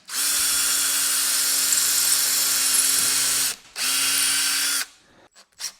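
A power drill whines at steady high speed while pre-drilling holes in 2x4 lumber for a workbench, two long continuous runs separated by a brief pause, then a few short blips, close and loud.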